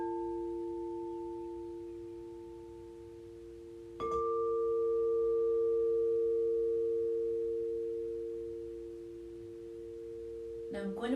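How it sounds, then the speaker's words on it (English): Sustained pure meditation tones ring steadily, with a new bright tone struck around the middle and another soft strike near the end, each decaying slowly in a quiet setting. "Hear those tones."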